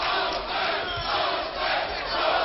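Boxing arena crowd at the Kostya Tszyu versus Hector Lopez fight, a dense roaring mass of voices chanting Lopez in a steady, sustained swell with no pauses.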